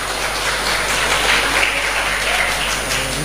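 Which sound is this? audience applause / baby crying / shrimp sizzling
audience applause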